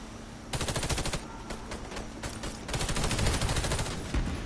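Automatic gunfire in the shooter Warface, several fast bursts of rattling shots separated by short gaps, loud and close, with a final heavy thump.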